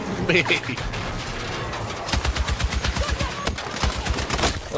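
Rapid bursts of automatic gunfire in Battlefield 6 rattle in quick succession, with a short clicking burst before a longer stuttering volley.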